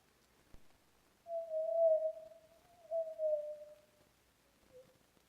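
A pure, steady whistle-like tone, a single sine partial isolated from resynthesized speech played at about half speed, sounds in two long sustained stretches, then a short faint third one, alone against near silence.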